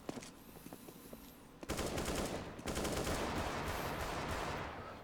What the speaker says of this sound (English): You can hear the spam of them Deagle bullets.